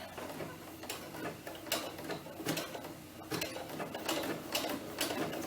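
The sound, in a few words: sewing machine doing overcast stitch on doll T-shirt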